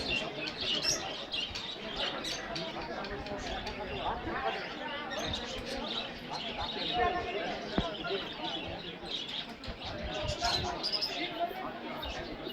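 Pigeons in cages at the Savar Nama Bazar livestock market, a mix of local breeds, with dense bird cooing and chatter, wing flaps and a busy crowd, people talking throughout at steady loudness.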